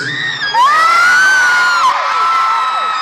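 A concert crowd at a show in New Jersey cheers loudly, high shrieks and whoops swelling suddenly and holding as a dense, sustained roar of many voices before easing slightly.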